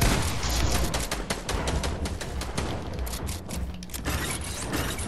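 Rapid bursts of gunfire in the video game Fortnite crackle densely and continuously, overlapping with mechanical clicking, fairly loud and close throughout.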